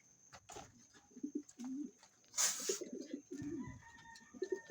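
Racing pigeons coo softly nearby, low throaty repeated calls overlapping in a quiet setting, with a brief rustle of wings in the middle.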